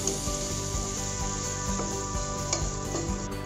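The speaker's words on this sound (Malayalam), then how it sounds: "എന്നിട്ട് ഇതിൻ്റെ പച്ചമണം മാറുന്ന വരെ നന്നായി വഴറ്റി കൊടുക്കാം." Ginger and chopped green chillies sautéing in a pan for pineapple pickle, a steady close sizzle and crackle with light stirring scrapes throughout, no voices.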